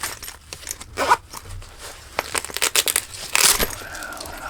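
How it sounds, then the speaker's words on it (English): A non-YKK zipper on the front of a cheap belt tool pouch is worked open and closed, with rasping zip strokes and crinkly handling noises of the fabric, close up. "So we have a zipper on the front, not a YKK zipper."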